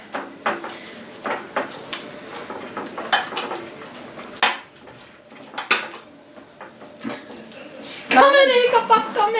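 Homemade slime is stirred in a bowl with a utensil, giving irregular clinks and scrapes, some sharp and loud, while people talk between them.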